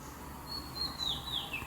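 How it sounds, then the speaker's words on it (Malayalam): Faint, brief bird chirps, a few short tweets over a low steady background hum. "കിളികളുടെ കളാരവം കേട്ടോണ്ടിരിക്കും"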